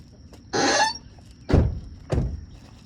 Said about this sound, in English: Let me close these trucks doors.